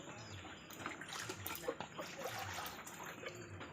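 Water splashes and trickles into a pan for a few seconds, a steady liquid pour close by with faint background noise.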